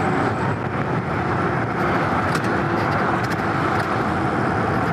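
Highway traffic heard while riding a Super73 S2 e-bike alongside it, a loud, continuous broadband rush of wind and passing vehicles with no pauses.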